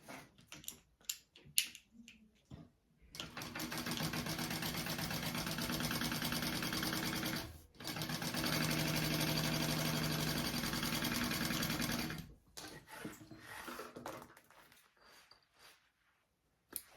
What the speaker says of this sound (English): we are going to top stitch that